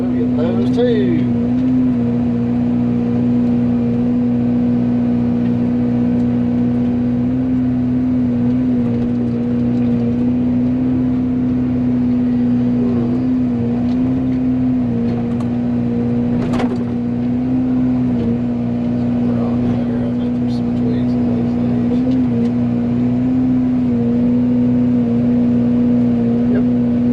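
An excavator engine runs steadily close by during property cleanup, a loud constant low drone with a faint whine and occasional clanks, holding level throughout.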